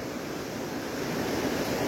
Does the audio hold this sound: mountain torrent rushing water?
yes